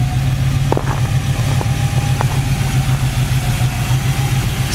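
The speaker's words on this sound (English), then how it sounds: "It's powered by a nice running 350 with headers" A 1969 Chevrolet Camaro in Daytona yellow idles steadily with its 350 V8 and headers, giving a constant low, throaty rumble with a few faint clicks on top and no talk.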